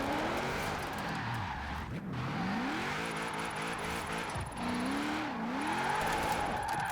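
Car drifting in Forza Horizon 4 with a clutch kick, engine revving and wavering in pitch alongside tire squeal and skidding, continuous and fairly loud with no talk.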